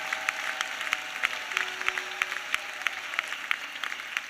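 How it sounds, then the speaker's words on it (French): A church congregation claps steadily, dense overlapping handclaps with sharper individual claps popping out, moderately loud and continuous, with a faint sustained tone underneath. "Oui, acclame bien parce que c'est ce que tu dois faire."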